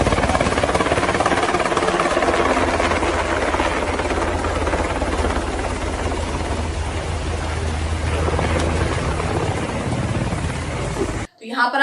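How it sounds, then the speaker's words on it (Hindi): A helicopter landing, its loud continuous rotor and engine roar filling the scene with broadband wind-like rumble, steady throughout before cutting off abruptly near the end. "आसमान में आपको हेलीकॉप्टर लैंड करता हुआ दिखाई देगा"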